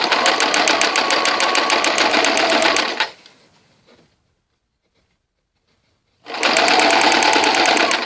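Sewing machine stitching a Hong Kong seam with a backstitch, a rapid steady mechanical chatter in two loud bursts separated by a few seconds of silence.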